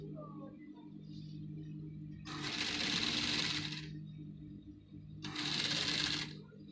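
A sewing machine stitches the hipline of a basque gown in two close, loud bursts of rapid whirring, separated by a pause with faint handling and a quiet voice in the background.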